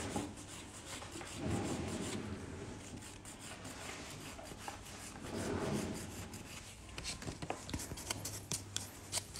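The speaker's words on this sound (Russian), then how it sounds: "поверхность потом просто шлифуем бафиком" Nail buffer rubbing across the surface of a nail during a manicure with upper nail forms, giving soft repeated swishing strokes close up, with two louder bursts of buffing.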